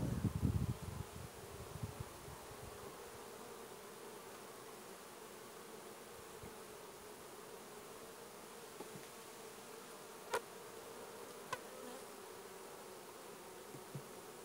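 Buckfast honey bees buzz at an open hive during beekeeping work, a soft steady hum near the microphone with a few brief clicks and handling noises, and no talking.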